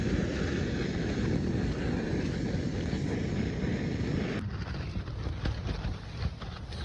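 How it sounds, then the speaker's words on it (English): Strong wind buffets the microphone on Assateague Island, a loud, steady roar that shifts character partway through with gusty flutter, no voices over it. "Just a tad windy."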